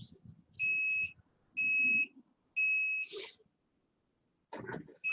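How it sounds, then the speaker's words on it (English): Electronic beeps sound while battery cells are processed: three evenly spaced, clear tonal beeps, each about half a second long, over quiet background handling noise, followed by faint knocks. "I should check what the beeping is."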